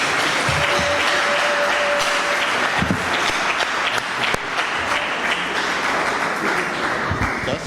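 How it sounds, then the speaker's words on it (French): A large audience claps in sustained, dense applause to welcome a guest speaker at a talk on the future of books and publishing, steady and loud throughout with no voices over it. "je vous invite à l'applaudir pour avoir fait le déplacement jusqu'ici"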